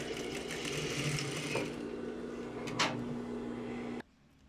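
A sewing machine runs steadily stitching a seam, finishing with a short backstitch, a close, quiet mechanical whir with a steady hum that stops abruptly near the end.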